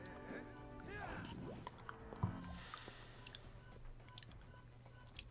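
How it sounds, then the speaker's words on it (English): Wet, squishy chewing and biting from a creature in the online game Wizard101, repeated bites mixed with sliding musical tones and faint game sounds. "I like the chewing sounds."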